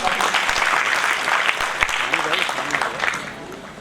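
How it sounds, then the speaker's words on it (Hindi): A crowd at an education charity festival breaks into loud, sustained applause for a welcomed guest, voices rising over the clapping as it gradually tapers off. "जोरदार ताली।"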